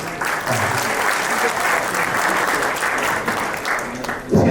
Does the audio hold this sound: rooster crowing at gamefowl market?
no